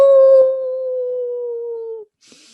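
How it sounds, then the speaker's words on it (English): A single long, steady howl from a dog rings out loud and close, holding one sustained pitch for about two seconds before cutting off, followed by a faint hiss. "you would see how wonderful it is to howl"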